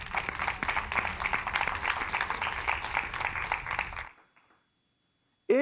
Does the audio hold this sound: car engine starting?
no